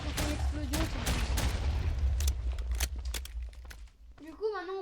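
Rapid gunfire and stray bullets in a video game, dense bursts of close sharp cracks that thin out into scattered shots, with speech running underneath and a short voice at the end.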